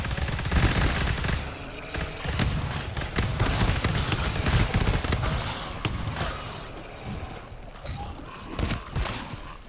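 Rapid bursts of gunfire, including combat shotgun blasts, crackle through a video game speedrun of the Floodways level, dense and loud with overlapping shots across the whole stretch.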